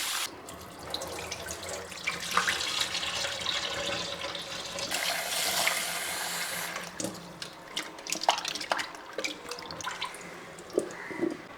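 Running tap water splashing into a sink while hog plums (ambazhanga) are rinsed and handled, with intermittent clinks and drips throughout.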